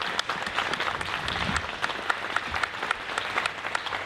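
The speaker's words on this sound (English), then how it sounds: "I want the audience to give a clap to these people here." An audience claps steadily throughout, a dense, even patter of many hands that holds at a moderate level without fading.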